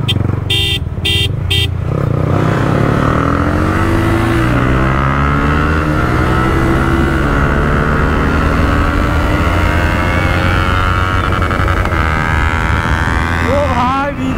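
Yamaha R15 V3 and V2 motorcycles race side by side, their engines loud and close with rising pitch as they accelerate through the gears, under steady wind rush and some voices.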